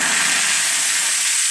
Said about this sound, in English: More water, and then it steams.